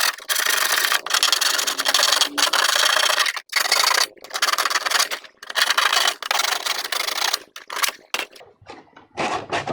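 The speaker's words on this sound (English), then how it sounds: "I'd really recommend the best thing to do is to block sand to be sure everything is nice and" Armor back box parts being block sanded by hand, a steady rasping rub in long continuous strokes broken by brief pauses, close and fairly loud with no talk.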